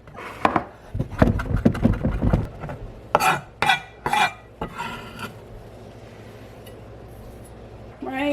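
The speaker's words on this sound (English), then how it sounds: "But I'm going to go in and chop." A knife chops leafy greens into strips on a wooden cutting board, a quick run of close, sharp knocks in the first few seconds, followed by a few spaced taps and then a quiet stretch.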